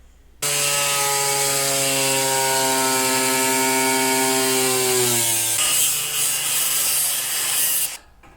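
Metal saw or cutting tool slicing through a rusted floor panel on a BMW E39, a loud continuous tonal whine with strong harmonics that drops in pitch partway through as the blade loads, then runs on rougher before stopping.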